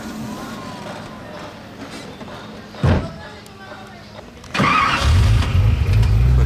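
A Koenigsegg CCR supercar in Monaco cranks and its engine fires, settling into a loud, deep, rumbling idle for the last couple of seconds. A brief thump comes earlier, and someone is talking before the start.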